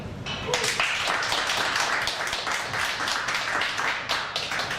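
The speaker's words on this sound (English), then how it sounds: "And then we also have a big round of applause for today's sponsor, the late Hugh Charlson." Audience applause at the 2012 Men's Australian 8-Ball National Final, honouring the day's sponsor: steady, fairly close clapping through the whole stretch, with some voices mixed in.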